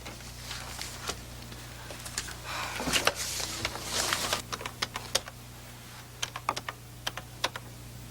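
Quick, uneven clicks of typing on a computer keyboard, close and fairly quiet, coming in bursts with short pauses.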